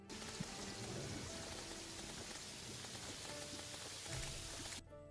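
Steady rain falls in the video game Terraria, a dense, even hiss of drops on a surface that stays constant throughout before cutting off abruptly near the end.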